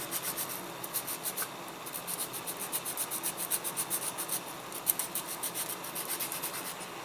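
Abrasive rubbed back and forth over a plastic King Ghidorah model with the finer side, smoothing a step; steady rhythmic rasping strokes, close and fairly quiet, with no voices.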